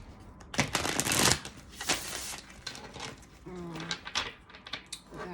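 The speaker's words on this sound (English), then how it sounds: "I'm trying to shuffle as best as I can," Tarot cards shuffled by hand in bursts of papery riffling and flicking, close and moderately loud, with soft handling rustles between shuffles and a brief faint tone near the end.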